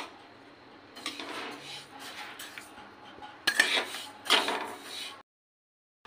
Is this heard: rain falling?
no